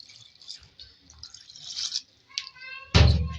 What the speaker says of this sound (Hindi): 4 गिलास पानी ऐड हो रहा है।